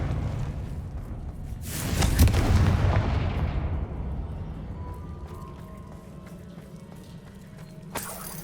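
Confringo blasting spell explosions in the video game Hogwarts Legacy: a heavy, booming blast swells and rolls out, then slowly decays over a low rumble, with a sharp impact crack near the end.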